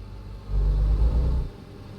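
A truck engine starts up in a driving simulator, a low rumbling crank that swells to a loud steady roar for about a second, then drops back to a quieter idle; no talking.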